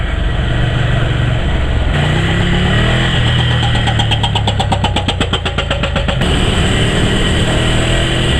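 Ducati Scrambler motorcycle engine running steadily at a mid-pitched idle, with a stretch of rapid rhythmic pulsing in the middle, close and continuous.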